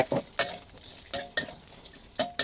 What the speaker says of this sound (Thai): เสร็จแล้วเราก็ใส่หมูสามชั้น ลงไป ที่เราคั่วเมื่อกี้ เราก็คั่วให้เข้ากันเลยแก